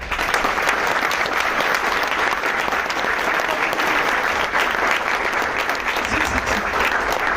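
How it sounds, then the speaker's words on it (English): A large conference audience at a model UN conclave claps vigorously for a general, loud dense applause holding strong from start to finish. "put your hands together in a big round of applause for me."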